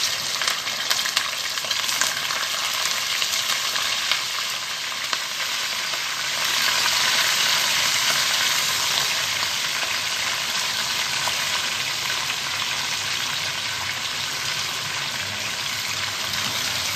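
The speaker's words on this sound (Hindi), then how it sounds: "अब हम इसको इतनी देर फ्राई करेंगे कि चिकन का कलर जो है ये थोड़ा चेंज हो जाए।" Chicken and ginger frying in a karahi, giving a loud, continuous, even sizzle that hisses steadily for the whole stretch with no voices.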